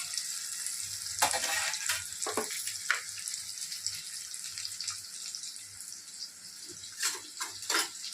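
Onions and green chillies fry in a pan with a steady, close sizzle, broken by a few sharper crackles and spatters; no one speaks over it.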